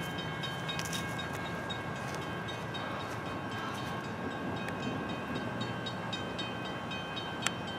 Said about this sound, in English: The 97 Silver Meteor, southbound headed for Miami, is coming through Folkston,